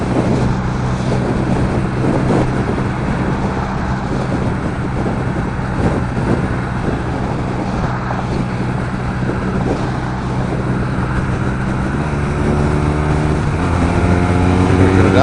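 A 2016 BMW R nineT motorcycle on the road, its engine breathing through a low-flow set of exhaust pipes, a steady, fairly muted drone heard from the saddle under constant wind rush, rising slightly near the end.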